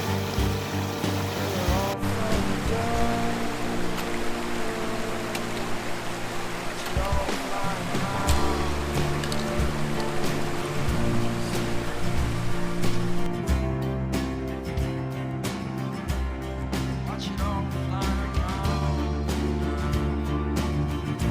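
Bubs Creek in Kings Canyon rushes steadily below a fern meadow trail, a loud continuous wash of mountain water that holds for the whole stretch, with thumps of movement nearby.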